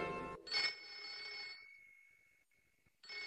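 A telephone ringing in a cartoon, with a bright electronic ring tone repeating in bursts, fairly faint and alone.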